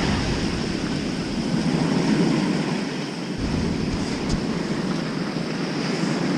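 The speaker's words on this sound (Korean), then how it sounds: "동해안은 진짜 파도 진짜 무서워." Strong surf crashing on a sandy East Sea beach at Yeongjin Beach, Gangneung, in winter, a loud continuous wash of breaking waves mixed with wind buffeting the microphone and no voices.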